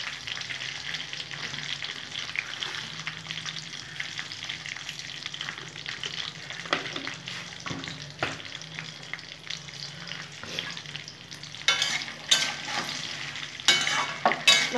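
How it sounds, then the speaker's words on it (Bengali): Spices for a sweet-sour jujube (kul) pickle sauté steadily in a pan, a continuous close sizzle with stirring scrapes and a few louder clatters near the end, no talking. "ভালো করে সাঁতলে নেবো এখন 10 মিনিটের জন্য।"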